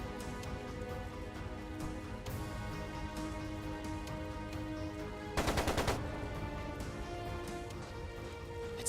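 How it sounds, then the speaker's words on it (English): Rapid machine gun fire from the video game Trails of Cold Steel 2, a short dense burst of sharp repeated shots standing out over a steady bed of game music and background noise. "It sounded like a machine gun."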